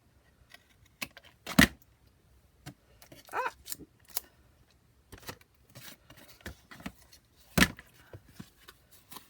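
Scissors cutting paper for a junk journal, heard as scattered sharp snips and soft rustles with quiet gaps, close and fairly faint.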